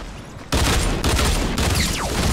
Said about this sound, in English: Yeah, overpowered dual pistols.